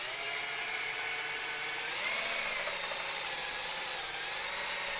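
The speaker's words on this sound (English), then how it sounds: "sometimes you'll get ones with a lot of rust in the head tube and it kind of sucks to scrub in there" A bike shop power tool, likely a rotary wire brush, scrubs rust from inside the head tube of a rusty bicycle frame, making a steady, loud, continuous high-pitched whirring grind throughout with no pauses.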